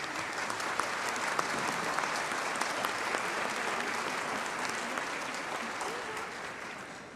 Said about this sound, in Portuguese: O executor, quem executa o hino pode ser aplaudido